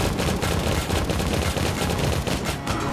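Cannon fire in the steampunk tower defense game Steampunk Tower 2: dense, continuous volleys of booming shots overlap into a loud, rolling barrage with no gaps across the whole stretch.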